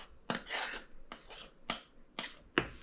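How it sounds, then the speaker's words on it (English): Flour for a lemon streusel coffee cake shaken through a metal sifter, giving repeated rasping, scraping strokes with light tapping clicks, about four or five even pulses close up with no talking. "You can also sift your flour, gets it nice and fluffy."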